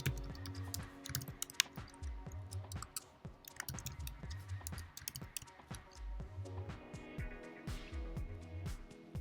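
A password being typed on a computer keyboard while setting up Windows Server 2019 produces quick, irregular clusters of crisp key clicks, close and fairly quiet, with brief pauses between bursts.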